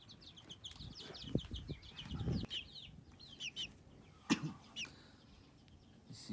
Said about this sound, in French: Ici, j'ai quelques poules mixtes.